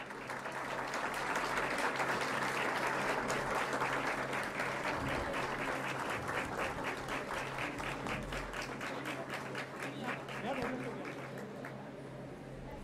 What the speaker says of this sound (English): May we have a huge round of applause once again.